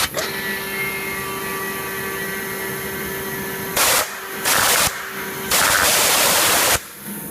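A Hydrovane 23 PUM rotary vane air compressor running with a steady mechanical drone and whine, interrupted by several loud bursts of rushing air from the overpressure safety valve popping.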